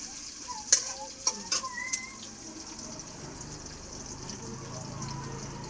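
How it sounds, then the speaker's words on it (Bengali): Chopped onion fries quietly in a pan as a utensil clinks and scrapes a few times while stirring, the soft sizzle continuing faintly in the background. "পেঁয়াজ কুচিটা ভালো করে ভাজা ভাজা করে নেব"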